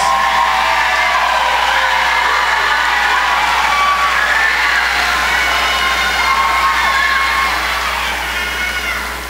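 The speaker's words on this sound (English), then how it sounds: "Please celebrate them with a round of applause." A large crowd at a university commencement ceremony applauds and cheers, with whoops and high shouts over sustained clapping, loud and dense throughout before easing slightly at the end.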